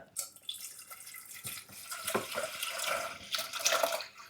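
Running water splashes and trickles unevenly while washing ayira fish in a bowl, fairly close with brief pauses and sloshes.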